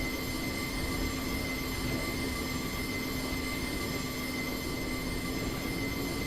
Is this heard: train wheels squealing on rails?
yes